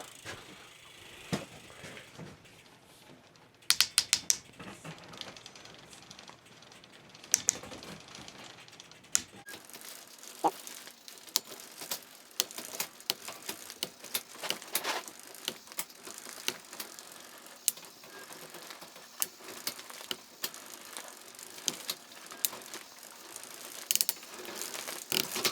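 A SteinTrike rear wheel with studded Schwalbe Winter Marathon tyre spins while gears are shifted, giving a steady rapid ratcheting tick of the freewheel pawls with sharper clicks from the shifter, close and continuous.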